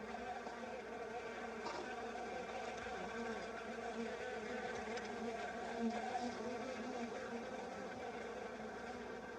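Stingless bees buzz continuously around their exposed hive in a split log in the Amazon forest, a faint, close, wavering drone of many insects with a few brief louder passes.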